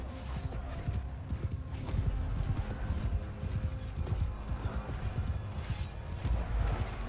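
Hooves of a galloping horse in the video game Bannerlord thud in a fast, continuous rhythm amid battle noise, fairly close, with faint voices in the background.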